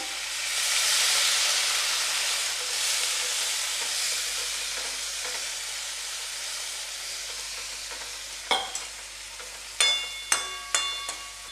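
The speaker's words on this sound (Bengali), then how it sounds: "কষানো হয়ে গেছে, এবার আমি অল্প জল দেব" A broad, steady sizzle and hiss of water added to onion-stalk curry frying in a pan rise early on and slowly fade. Several sharp clacks of a metal spatula stirring near the pan follow toward the end.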